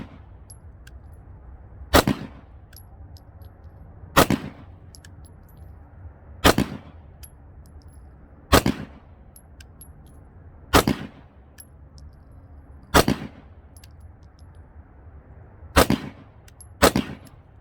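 Single shots from a Colt Python revolver and a VP9 pistol ring out at a shooting range, sharp loud reports spaced a couple of seconds apart, eight in all, with quiet gaps between them.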